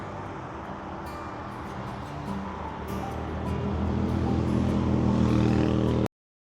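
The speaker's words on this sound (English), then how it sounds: "I don't need the sound of traffic and stuff during this part" Continuous traffic noise on the way to a park, a broad wash of passing cars that swells louder toward the end before cutting off abruptly, with no one speaking.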